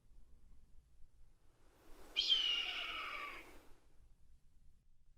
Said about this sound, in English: Sounds like there's a red-tailed hawk calling nearby.